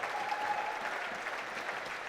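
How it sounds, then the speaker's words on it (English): Sustained applause from a crowd after a badminton men's doubles final at the English Nationals, a dense, steady wash of clapping throughout. "And the crowd applaud."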